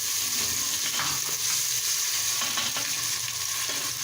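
Tomatoes and green chillies hit hot oil in a frying pan for aloo gosht and give a steady, loud sizzle with light stirring noises, close by and without talk.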